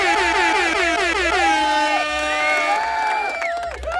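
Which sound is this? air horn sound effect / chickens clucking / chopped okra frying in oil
air horn sound effect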